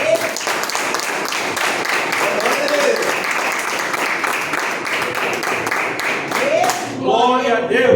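A church congregation claps and applauds for God in a dense, steady burst that lasts several seconds, with voices and cheers mixed in and a brief sung or spoken phrase near the end.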